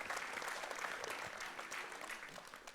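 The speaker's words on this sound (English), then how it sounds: "let's give a huge round of applause to the whole Savoy team" An audience at a car museum panel talk gives a round of applause, a steady, moderately faint wash of many hands clapping that holds evenly for its full length.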